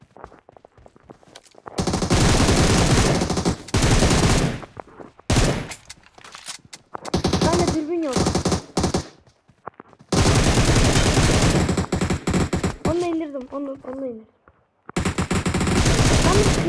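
Automatic rifle fire in PUBG on the Erangel map: loud, close bursts of rapid shots in several long volleys separated by short pauses, with a voice briefly heard between them.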